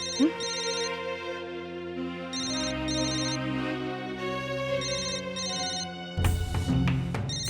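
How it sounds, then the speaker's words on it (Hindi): A phone ringtone rings in a household, a repeating melodic electronic tune with bright pulsing tones continuing steadily for several seconds before a burst of louder dramatic music cuts in at the end. "फोन बज रहा आपका सासू माँ।"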